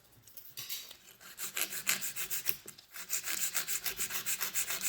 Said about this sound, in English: it's best to do it now because it's easier to file a plastic tip